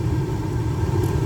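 The blower motor of a 2007 VW Passat runs with a steady, low, even hum and whir, close by and alone for just over a second.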